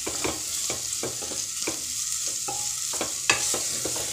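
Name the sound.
sautéing dal in a pan for dal palak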